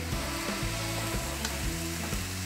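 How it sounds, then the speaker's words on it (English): A whole flounder sizzling on indirect heat, a steady close frying hiss with soft crackles and a few low intermittent tones underneath, no talk. "Listen to that sizzle action."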